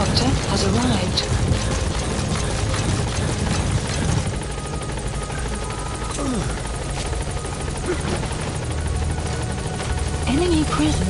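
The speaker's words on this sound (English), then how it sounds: "Support helicopter has arrived." A support helicopter arrives in a video game, its rotor drone loud and continuous throughout, with radio voices talking over it.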